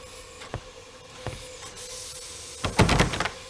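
A locked train compartment door in the Murder on the Orient Express video game is tried: two light clicks, then a short burst of handle rattling near the end, over a low steady hum.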